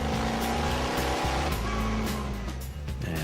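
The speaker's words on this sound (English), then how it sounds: "It's such a great car to drive, you know, it just screams at you, literally" A car engine roars loudly and steadily at high revs, a dense, screaming drone that holds throughout with slight shifts in pitch.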